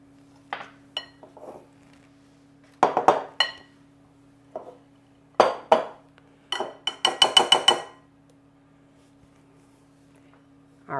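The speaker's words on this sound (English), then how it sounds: "We're going to stir the sugar in to our dry ingredients." A utensil stirs sugar into dry muffin ingredients in a bowl, giving a series of sharp clinks and scrapes in irregular bursts over a quiet background hum.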